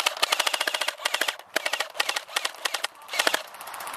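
An SRC/TSD G36c airsoft gun fires in several rapid automatic bursts, each a sharp, evenly spaced rattle of shots, loud and near with brief pauses between strings.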